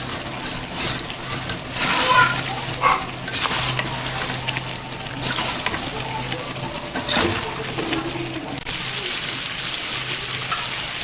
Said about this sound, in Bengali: এবার হলুদ দেওয়ার পরে আবার আমি একটু সময় কষাবো